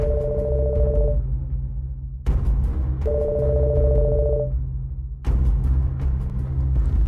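A telephone rings unanswered with two long, loud electronic ring bursts separated by pauses, over a low background hum.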